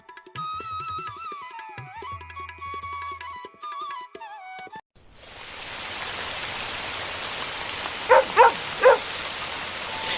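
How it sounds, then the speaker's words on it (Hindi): Music fades out, then a steady wash of heavy rain takes over, dense and hissing, with a few brief louder knocks near the end. "बारिश इतनी तेज थी कि सुखपुरा का पूरा बाजार सूना पड़ा था"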